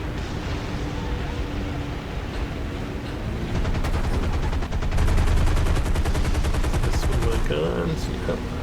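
Machine guns of a Grumman TBF-1c Avenger firing in War Thunder over a steady engine roar, starting with scattered shots and building to a long rapid burst midway, loud and close.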